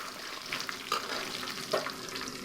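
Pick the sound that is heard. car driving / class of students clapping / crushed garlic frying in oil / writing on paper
crushed garlic frying in oil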